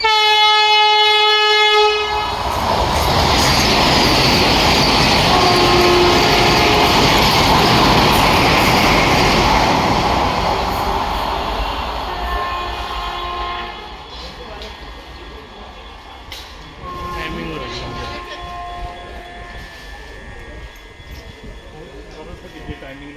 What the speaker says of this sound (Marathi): वंदे भारत ट्रेन येते आणि आमची ट्रेन लेट आहे बघा.